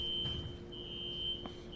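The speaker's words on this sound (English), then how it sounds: "I'm hearing right now that beeping sound. That's the fire alarm." A high-pitched electronic smoke alarm beeps steadily in the background, a thin sustained tone that briefly cuts out, over faint room noise.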